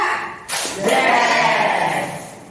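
A class claps together in a rehearsed rhythmic pattern, with one sharp burst of claps followed by a sustained wash of many hands clapping at once, loud and close.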